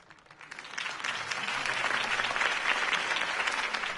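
Crowd applause for a campaign speech in the Batman Telltale video game, a steady dense wash of clapping that swells and holds throughout.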